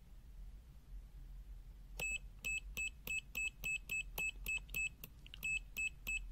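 Pen-type digital multimeter (Habotest HT121) giving its continuity test beep, a series of about a dozen short, bright electronic beeps in quick irregular rhythm as the probes touch, quiet and heard alone.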